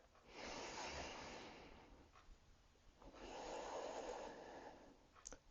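Deep breaths drawn in and pushed out through the nose during a kettlebell workout warm-up: two long, airy breath cycles, each swelling then easing, close and fairly soft with a brief click near the end.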